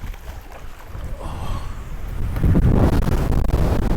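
Strong wind rips across a bass fishing boat on open water in early spring: a low rumbling roar buffets the microphone and grows heavier and louder toward the end.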